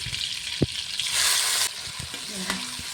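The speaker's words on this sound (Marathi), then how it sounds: "आता याच्यात टाकते मी शिमला मिरची" Finely chopped capsicum hits hot butter and oil with bloomed cumin for pav bhaji, giving a loud, hissing sizzle that surges for about half a second, then settles into a steady crackle with a few clinks of a spoon.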